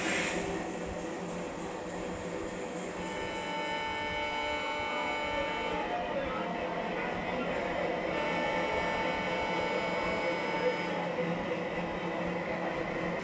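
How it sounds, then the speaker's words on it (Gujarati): Working miniature railway station model playing a steady station ambience: a continuous hum and murmur with a faint rail-like drone, even in level throughout with no clear individual events. "એકદમ રેલવે સ્ટેશનમાં જે એમ્બિયન્સ સાઉન્ડ હોય છે એક છે સેમ."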